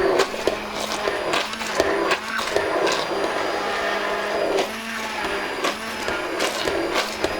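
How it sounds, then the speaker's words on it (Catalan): A kitchen blender grinds and crushes chunky ingredients for a Catalan dish, a loud, close, continuous whirring churn with uneven surges as the pieces break up. "Sí, ho hem de triturar."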